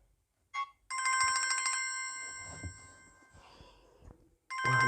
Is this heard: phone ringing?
yes